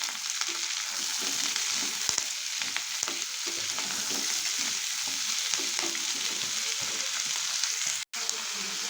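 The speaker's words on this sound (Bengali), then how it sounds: "সবজিগুলোকে কিছুক্ষণ একটু হবে একটু ভেজে নেবো" Chopped vegetables frying in a pan for semolina khichuri, a steady close hiss and sizzle with faint stirring scrapes throughout, no talk.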